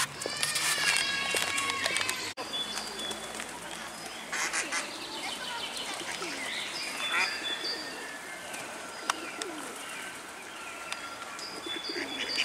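Pigeons at an outdoor town festival in Krzeszowice give soft coos amid a busy crowd, mixed with birdsong, footsteps and chatter, with people talking throughout.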